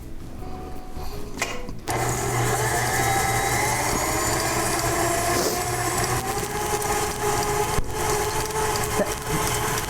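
A KitchenAid stand mixer whirs steadily up close, a continuous droning motor hum with a rhythmic mechanical rattle that starts after a brief clatter and runs unbroken to the end.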